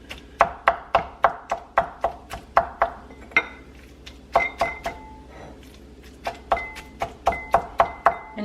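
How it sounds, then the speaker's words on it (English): A knife chops shrimp on a cutting board for a Mexican shrimp ball soup, sharp rapid knocks in quick bursts with brief pauses between runs, close and distinct. "you're gonna start chopping."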